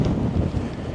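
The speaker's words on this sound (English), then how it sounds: "I'm sure that wind's getting stronger." Strong wind roars steadily across a rough-ground shore during a club cod-fishing match, buffeting the microphone with a dense, continuous low rumble and no pauses.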